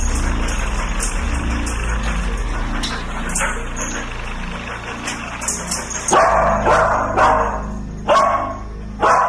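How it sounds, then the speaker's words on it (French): Eddie, a sniffer dog, barking during a house search: several sharp, close barks in the latter half, over a steady low engine-like hum. "Eddie aboie aussi derrière le canapé du salon."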